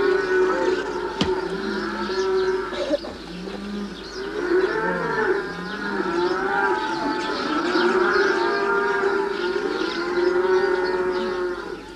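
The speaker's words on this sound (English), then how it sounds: "Mixed herds of donkey and cattle, which the villagers raise and sell, are driven through the rough streets" A mixed herd of cattle and donkeys driven through rough village streets in early morning, with repeated loud cattle moos rising and falling over a busy rural background and a sharp knock near the start.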